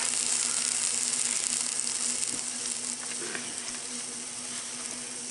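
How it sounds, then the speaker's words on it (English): Steady crackling sizzle of cornmeal batter frying in hot oil inside a Power Pressure Cooker XL, continuous and close, with a faint hum underneath and no talking. "Hear it sizzling?"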